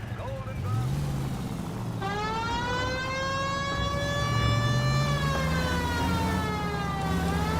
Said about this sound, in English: It's much more fun with the siren on, Phelps.